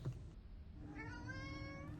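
Cats meowing in an artist-made luxury cat retreat: one drawn-out, wavering meow rises from midway and carries on to the end, close and clear over a low steady room hum.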